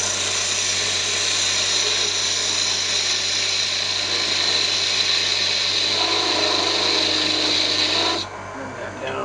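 A woodturning lathe spins while a tool tapers a wooden pill toy, a loud continuous scraping rasp over a steady motor hum that cuts off abruptly near the end.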